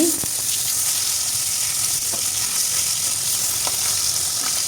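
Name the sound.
fish pieces frying in mustard oil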